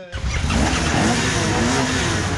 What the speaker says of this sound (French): Une vingtaine de motards allument leur moteur.